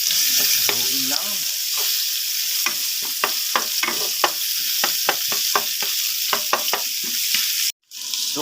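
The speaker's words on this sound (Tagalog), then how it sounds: "Haluin lang natin guys ang bawang. Ayan, sunod natin yung sibuyas natin guys." Garlic and onion sauté in a hot pan for a Filipino ginisang gulay, a steady bright sizzle broken by repeated sharp scrapes and clacks of a spatula stirring against the pan, ending with a brief cutout.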